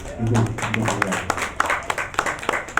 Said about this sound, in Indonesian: Tepuk tangan yang meriah dulu Pak.